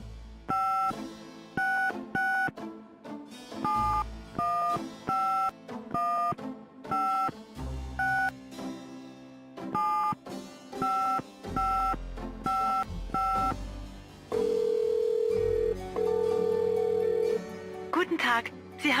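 Touch-tone keypad dialing in the Gabriel Knight: Sins of the Fathers adventure game, a quick run of distinct two-tone beeps in short bursts followed by a longer ringing tone, loud and close over a faint musical background.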